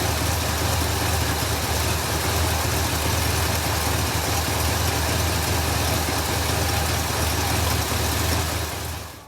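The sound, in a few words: 1966 Cadillac Eldorado engine idling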